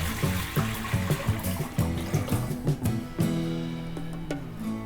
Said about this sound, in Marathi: पहा मी इथे पाणी घेतलंय त्याच डब्याने, तर आपण टाकून घेऊ।